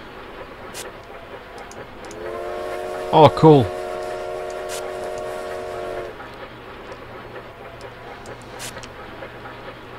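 Steam train whistle in the video game Bounty Train: a sustained multi-tone whistle of about four seconds with two louder bursts midway, over a steady rumbling engine bed, with someone talking briefly.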